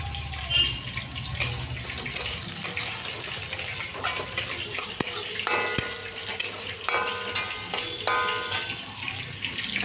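Onions fry in a pan with a continuous crackling sizzle, while a spatula stirs and scrapes them with frequent sharp clicks and knocks up close.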